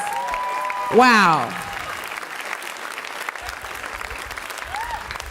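A university evening audience gives a warm round of applause at a diversity monologues event, with steady clapping throughout, a brief vocal exclamation and speaking voices over the top.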